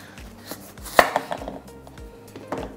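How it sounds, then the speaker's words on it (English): A kitchen knife chops through the ends of a raw butternut squash, giving one sharp, loud cut and a few lighter follow-up knocks against a cutting board, close up with no talking. "I use a knife when I peel it. So I cut off the ends."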